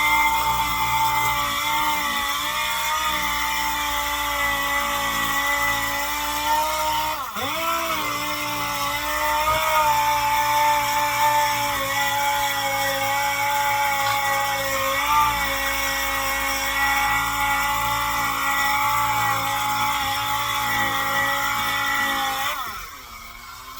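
A power sander grinds old paint off the wheel of a Saleen S351, giving a loud, continuous close-up whine with steady harmonic tones that briefly dip and shift as pressure changes, then cuts off near the end.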